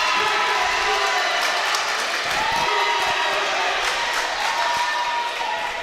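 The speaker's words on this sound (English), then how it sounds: "And the crowd's getting a little antsy. They're getting into it." Crowd at a women's community college basketball game, Montgomery County vs. Northampton, cheering and applauding in a steady loud wash, with a commentator talking over it.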